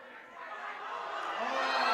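Spectators at a women's college basketball game between UWSP and UW-Stout cheer in a rising roar that builds steadily over a couple of seconds.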